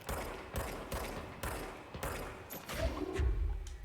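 Gunfire in the video game Control: a rapid series of sharp shots in regular bursts, fairly quiet overall, ending with a heavier thud.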